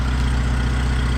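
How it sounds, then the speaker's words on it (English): A VW Corrado idles with a loose, leaking joint between the catalytic converter and the header, giving a steady, close, low rumbling drone with a faint puffing pulse. "an exhaust leak. I think between the cat and the header, I didn't tighten it enough"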